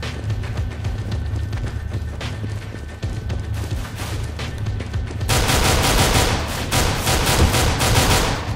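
Gunfire rattles through a round of Counter-Strike: Global Offensive on Dust_2, dense rapid automatic bursts that intensify in the second half, loud and continuous over game background noise, with no talk.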